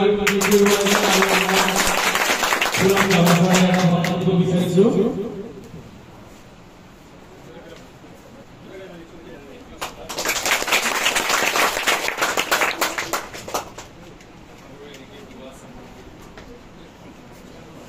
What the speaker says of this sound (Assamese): তেওঁৰ কাৰণে জোৰেকে হাত চাপৰি